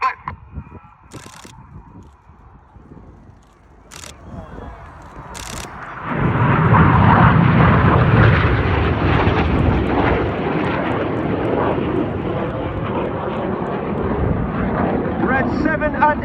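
Red Arrows jets at the Cosford airshow split formation, a loud broadband jet roar swelling in after a quieter stretch and staying strong, with a commentator talking over it.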